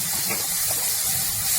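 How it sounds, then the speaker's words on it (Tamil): Finely chopped onions sauté in a pan with a dense, steady hiss and soft sizzle, loud and close, with no clear stirring strokes standing out. "பொடியாக கட் பண்ண வெங்காயத்தை நல்லா வதக்கி விட்டுக்கலாம்."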